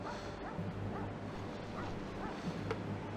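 Dogs bark in the video game Hidden & Dangerous 2, several short woofs and yips at a distance, repeating irregularly over steady ambient game noise, with no talk.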